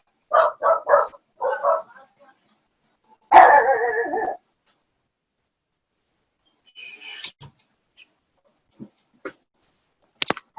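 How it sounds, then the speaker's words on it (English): Several dogs bark in short bursts near the start, followed by a louder, longer yelp or whine and scattered fainter yips and barks, with brief quiet gaps between them. "My dogs are being loud."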